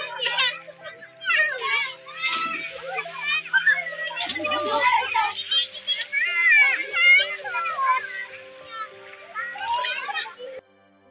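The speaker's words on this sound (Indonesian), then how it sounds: "Setiap sore selalu ada aja anak-anak yang datang untuk bermain air dan mandi-mandi di sungai ini." A group of children shout, laugh and chatter without pause while playing and bathing in a shallow village river in the afternoon, their voices near and lively.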